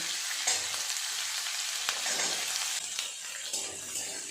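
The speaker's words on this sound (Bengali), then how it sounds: "খুব বেশি ভাজবো না দু তিন মিনিট একটু নেড়ে ছেড়ে নেব" Chopped capsicum, onion and green chilli fry in a pan with garlic, a bright continuous hissing sizzle broken by occasional stirring scrapes, close and steady throughout with no talking.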